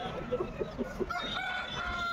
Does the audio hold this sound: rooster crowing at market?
yes